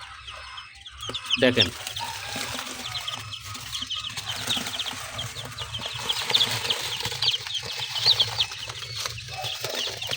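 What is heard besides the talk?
baby chicks chirping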